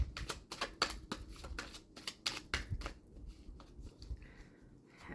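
Tarot cards are shuffled in a quick run of crisp, riffling flutters with short pauses between bursts, close and fairly quiet, with no voices.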